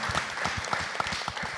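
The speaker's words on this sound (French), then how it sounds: "On l'applaudit, s'il vous plaît." Audience applause patters in a studio during a televised music talent competition, a moderate, even spatter of clapping lasting under two seconds.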